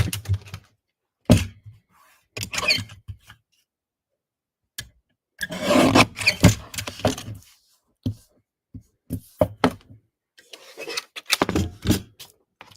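A paper trimmer cuts a handmade greeting card: sharp clicks, thunks and short sliding scrapes in irregular bursts with brief pauses between them, close and moderately loud.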